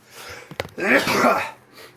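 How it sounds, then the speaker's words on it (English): A short sniff followed by a forceful, wet nose-blow lasting about a second, close up, then quiet breathing. "I better blow my nose"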